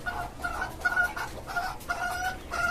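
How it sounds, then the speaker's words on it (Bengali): Fayoumi chickens in a rooftop cage cluck in a series of short, repeated bursts at moderate loudness, with no one talking. "এই খাঁচায় আপনার কিছু ফাউমি আছে"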